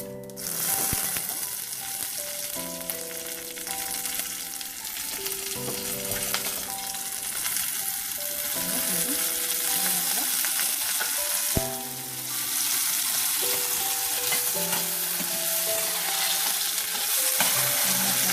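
Mustard seeds and onion frying in hot oil for banana flower kuzhambu, a dense continuous sizzle and crackle close by, steady throughout with occasional stirring clatter and no voices.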